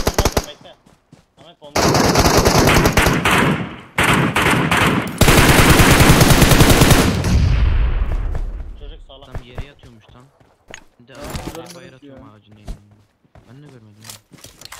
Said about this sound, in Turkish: Biraz beklerseniz vuruyorum.